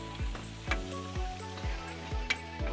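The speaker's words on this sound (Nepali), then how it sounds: "यहाँ चिकन फ्राई पनि हुँदैछ" Chicken frying in a pan for chicken chilli sizzles steadily up close, broken by several regular scraping stir strokes about every half second.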